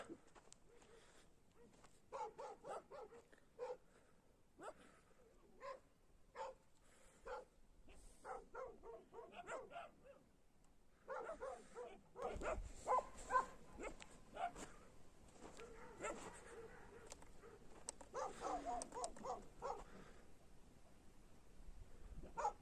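Dogs guarding a highland pasture at night bark uneasily in repeated sharp bursts with short gaps and some whimpers, at middle distance, growing busier and more continuous toward the end.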